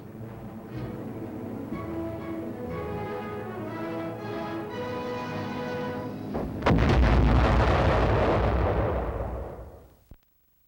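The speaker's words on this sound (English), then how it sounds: "it automatically explodes a projectile just before it reaches the target" A projectile bursts with a heavy boom from a proximity-fused artillery round, the blast swelling loud and rumbling for several seconds over a steady droning background before cutting off abruptly.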